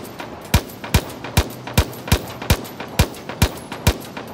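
Single-shot gunfire from a knife-fitted elite weapon in Far Cry New Dawn, about ten sharp loud shots at an even, fairly quick pace, each with a short tail and no talking.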